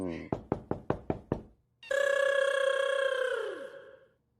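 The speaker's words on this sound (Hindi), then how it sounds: "कौन खटखटा रहा है दरवाजा?" Knocking on a door at night in a comedy sitcom household: six sharp, evenly spaced knocks, loud and close, followed by a long sustained ringing tone that fades out.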